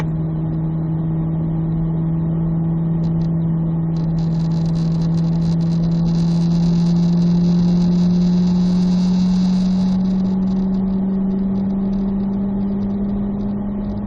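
A Chevrolet Corvette C8 Z06 on a race track during lap sessions, its engine holding a steady droning tone that slowly climbs in pitch, with a whirring whine layered on top through the middle. Loud and close, with no voices.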